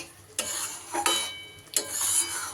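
Spice masala fries over a raised gas flame as a spatula stirs it in three distinct scraping sweeps over a soft sizzle, close by and fairly quiet. No talking.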